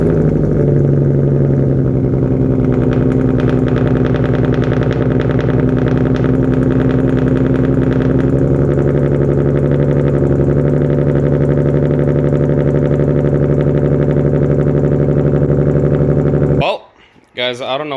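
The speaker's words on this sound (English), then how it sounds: "I'm gonna see the first start after cleaning up the throttle bodies and installing the headers." A Nissan VQ37 engine starts for the first time after a header install and throttle body cleaning, settling into a loud, steady close-up idle with a throaty drone that holds for most of the clip before cutting off abruptly near the end.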